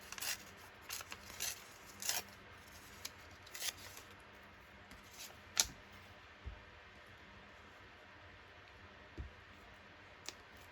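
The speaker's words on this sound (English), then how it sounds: "We'll tear that off." Paper torn by hand for a junk journal, a few quiet, brief rips and crinkles scattered among soft tapping and handling noises in a hushed room, with no talk.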